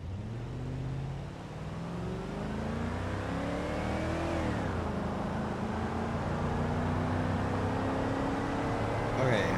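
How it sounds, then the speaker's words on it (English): Crown Victoria mod in BeamNG Drive accelerating from 0 to 60 on an interstate: engine revs climb in pitch, drop briefly at a gear shift, then rise again in a smooth, steady, close roar. "Let's do a quick 0 to 60 here on the interstate."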